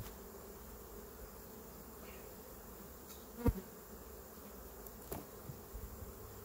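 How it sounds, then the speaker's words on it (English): Bees buzz as a faint, steady drone around an outdoor beehive being checked for a shook swarm, with a brief sharp knock partway through and a few soft handling sounds. "Not a ton of bees up here,"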